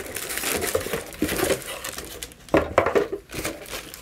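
Crinkling packaging rustles and crumples as a boxed Max Keyboard Nighthawk X9 backlit mechanical keyboard is pulled out, close and moderately quiet, in uneven bursts with a louder crunch near the end.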